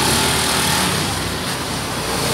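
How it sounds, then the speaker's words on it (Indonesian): A Honda Beat FI scooter fitted with a Daytona racing V-belt, ridden nearby with a steady, buzzing engine drone that holds fairly constant and loud throughout. "Alfian mau nyobain motornya."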